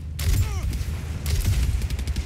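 Gunfire rattles in the video game Far Cry 6 during a fight near a tank, a steady, dense clatter of shots and booms over a low rumble for about two seconds.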